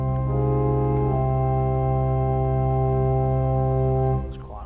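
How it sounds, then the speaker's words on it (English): A sustained diapason stop on a theatre pipe organ, with pipes of wood and metal, holds one steady full chord for about four seconds and then cuts off, heard alone with no talking. "we'll start with typical sound, the diapason, which sounds a bit like this."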